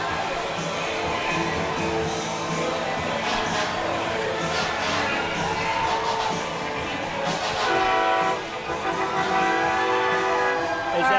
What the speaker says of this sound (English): A Jeep with a train horn.